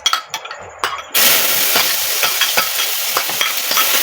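Chopped onions dropped into hot oil for a seafood dish burst into a loud, continuous sizzle after a few clinks and taps, with stirring scrapes over the frying.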